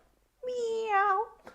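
A person imitates a cat with one drawn-out, clear meow that rises and falls over about a second, close and fairly loud, followed by a brief breathy sound at the end.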